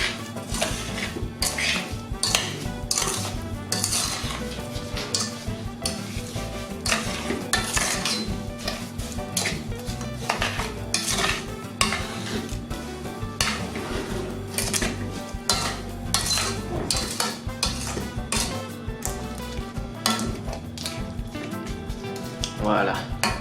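Dried hibiscus flowers and sugar stirred in a cooking pot, with a spoon scraping and clinking against the metal in quick irregular strokes, close and fairly loud, over a constant background murmur.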